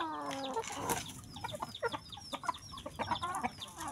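Backyard chickens at evening feeding, a busy flurry of short clucks and squawks close by, with a hen's rapid cackling mixed in, fairly quiet overall.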